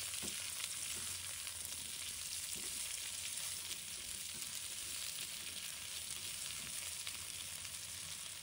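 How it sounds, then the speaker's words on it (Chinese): Sausage stir-frying over high heat with onion, green chili and potato, giving a steady, dense sizzle that holds at an even level throughout with faint scraping of the pan underneath. "接着将洋葱、青辣椒和马铃薯放入锅中，继续开大火翻炒，直到所有食材都散发出香气"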